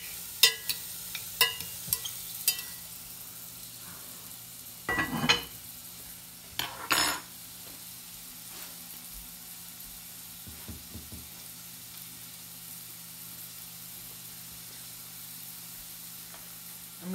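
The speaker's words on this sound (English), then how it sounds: "you're going to want to make sure you stir them a lot so they don't get to the bottom and burn" Green beans stirred in a cooking pot, with scattered clinks and scrapes of a utensil against the pot over a steady low background, a few louder stirring bursts in the middle, then quieter.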